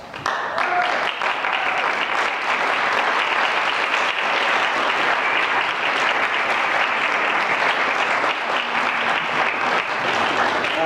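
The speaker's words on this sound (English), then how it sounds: "would all the sponsored families please stand and allow us to give you a round of applause" Sustained, dense applause from a concert audience in Atwood, Kansas, steady and loud for about eleven seconds with no pauses.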